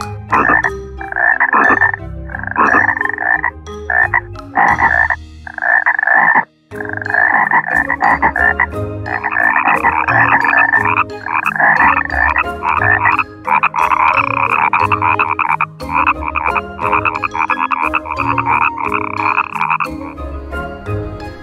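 Frogs croaking in a loud, dense chorus, overlapping rhythmic calls repeating close by for the whole stretch, with only a brief pause partway through and no voices.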